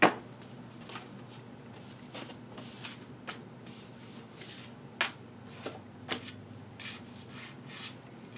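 Tarot cards are shuffled and riffled in quiet, soft papery bursts of rubbing and flicking at an uneven pace, with a few sharper snaps standing out over a low steady room hum.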